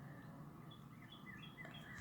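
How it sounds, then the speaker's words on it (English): Faint bird song drifts in from a distance, short whistled phrases repeating over a steady low background hum. "I can hear the cardinal in the background"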